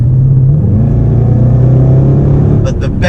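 A 2017 Range Rover Sport SVR engine rumbles loudly and close with a deep, steady idle-to-rev growl. A few sharp bursts come near the end, and a voice talks over it.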